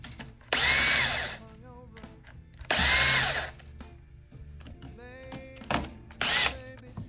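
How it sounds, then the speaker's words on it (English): Power screwdriver unscrewing the bridge of a Sterling by Music Man Ray4 bass guitar: several loud, close bursts of whirring motor, each about a second long, separated by quieter clicks and handling noises. "I'm using special fast tools, screwdriver, and I'm doing it"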